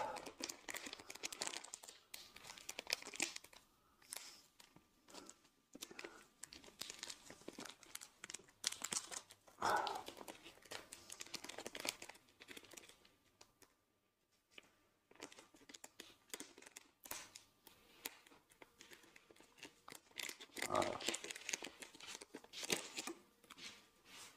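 Plastic packaging for a replacement smartwatch strap, for a Huawei Watch Fit 3 or Amazfit Bip 6, gets opened with quiet crinkling, rustling and tearing in irregular bursts, close by and faint.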